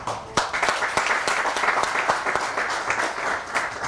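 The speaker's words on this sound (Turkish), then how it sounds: "sizleri kocaman bir alkışlamak istiyorum" A group applauds a municipal sports club team, a steady crowd of clapping with some sharp individual claps standing out, fairly close.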